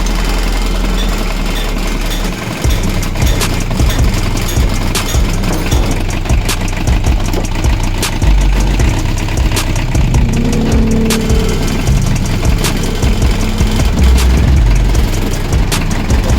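An RF engine starting and running for a test: a loud, close engine idles steadily with rapid rhythmic pulsing throughout, with no speech.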